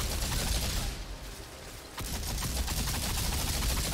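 Rapid gunfire in the Outriders video game: loud, dense bursts of shooting with a short lull in the middle before the firing resumes, with no talk over it.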